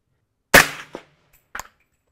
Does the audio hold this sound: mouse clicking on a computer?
no